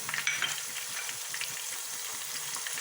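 Spices, tomatoes and green chillies sizzle steadily in a pan with meat, with faint stirring scrapes throughout. No voices are heard.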